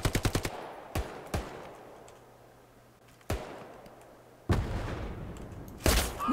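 Gunfire in the World War II video game Hell Let Loose: a quick machine-gun burst of about five shots, then scattered single sharp reports and louder blasts with noisy tails, all close and without talk.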